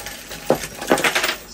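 Gold coins dropping and clinking out of a treasure chest found with a metal detector in the Bahamas, a couple of bright metallic chinks followed by a quick jingling scatter.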